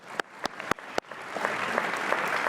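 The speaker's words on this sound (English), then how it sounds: "Again, a great round of applause." Audience applause starting with four separate loud claps, then swelling into continuous lighter clapping from a crowd that stays fairly soft and even.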